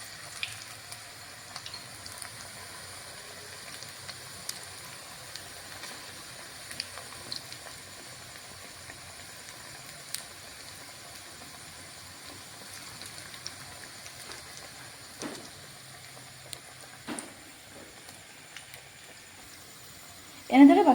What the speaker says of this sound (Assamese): এনেদৰে বাকী থকা পকৰীখিনিও ভাজি ল'ম।